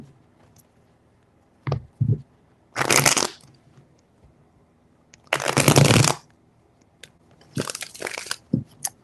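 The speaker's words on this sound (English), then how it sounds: "Four shuffles." Tarot cards are shuffled in four separate bursts of riffling, close and crisp, with quiet pauses and faint handling sounds between them.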